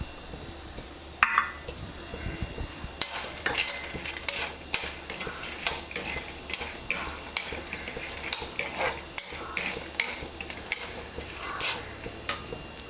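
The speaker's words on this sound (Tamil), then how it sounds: "இப்போ நம்ம வேர்க்கடலை போட்டுடலாம்." Peanuts stirred and roasted in a pan while making a drumstick leaf spice powder: steady rhythmic scraping and rattling of nuts against metal, with repeated sharp clicks of the spoon, close and fairly loud.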